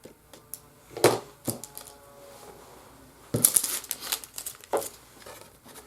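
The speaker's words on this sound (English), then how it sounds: "Just going to trim the edge off." A greeting card edge being trimmed in a craft session, giving a few sharp, close cutting snips and crisp paper crinkles separated by quiet pauses, with no talking.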